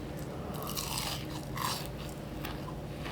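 Someone bites into a crispy homemade croissant close to the microphone, producing soft crackling crunches followed by quiet chewing, with no speech over it.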